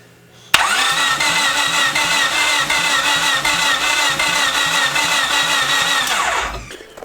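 Car engine cranking with a starter whine, catching, and settling into a loud, steady running drone close by for several seconds before cutting off, on a Honda being fixed by a mechanic.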